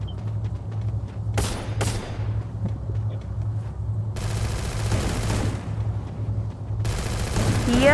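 Bursts of rapid automatic gunfire from a light machine gun in Free Fire, loud and close, starting and stopping several times over a steady low engine-like hum.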